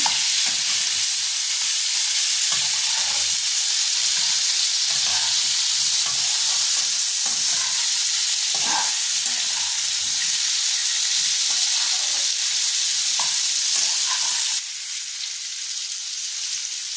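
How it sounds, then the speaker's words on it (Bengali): Fish-head curry with green chillies frying in a pan while being stirred, a steady loud sizzle with scraping spoon strokes throughout, easing slightly near the end; no voices. "এবার আমি একটু হালকা হাতে নাড়িয়ে নেব।"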